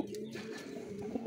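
A breeder racing pigeon coos in low, steady murmuring notes, close and continuous, with faint background ambience.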